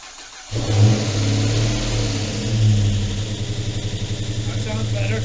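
A junkyard Ram Hemi V8 swapped into a 2007 Dodge Charger AWD cranks and catches at once, then settles into a loud, close, lumpy idle with a steady pulsing throb and a brief rev midway.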